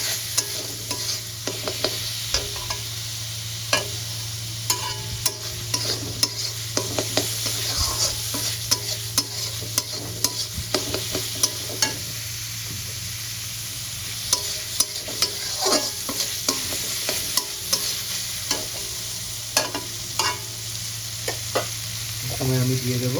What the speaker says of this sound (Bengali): পেঁয়াজ বাটাটা আমি লাল লাল করে কষিয়ে নিতে হবে, তাহলে কিন্তু পেঁয়াজের কাঁচা গন্ধটা চলে যাবে